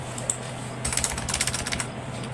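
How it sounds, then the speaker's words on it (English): Quick bursts of keystrokes on a computer keyboard as an IP address is entered, a short isolated tap followed by a rapid run of clicks, close and clear over a steady low hum. "the IP address I would type right here"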